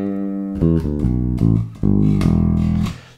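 A rock/funk bass guitar fill played very slowly, a handful of separate plucked low notes with sustained tones and small gaps between them, close and unaccompanied.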